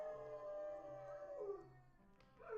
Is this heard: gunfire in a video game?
no